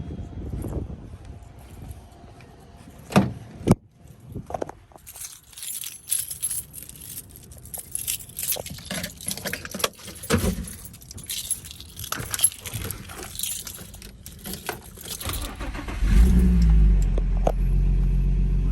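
Keys jangle and clink for a long stretch before an Infiniti G35 engine turns over and starts, settling into a steady, close running rumble.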